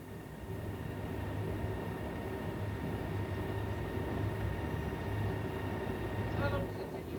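A 1986 train running on rails toward Bristol past old marshalling yards, heard from the cab as a steady low rumble and hum throughout, fairly quiet and even, with a faint higher whine near the end.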